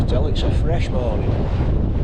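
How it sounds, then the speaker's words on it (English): Strong wind at a mountain wild camp, a continuous rough blustery roar buffeting the microphone, with faint brief voice sounds near the start. "That wind's gone up during night. We're hitting about 20 mile an hour, maybe 25 tops here this morning now."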